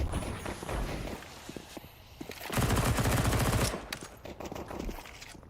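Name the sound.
AK rifle gunfire in the video game Counter-Strike 2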